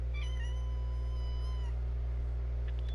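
A cat lets out one drawn-out, wavering meow, close and clear, over a steady low electrical hum, followed by faint quiet shuffling.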